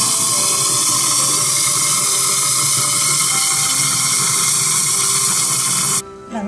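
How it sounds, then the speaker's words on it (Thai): Garlic being peeled in a herbal chili paste workshop: a loud, steady mechanical whir with watery hiss runs unbroken for about six seconds, then cuts off abruptly. "นี่เป็นขั้นตอนการปอกกระเทียมค่ะ"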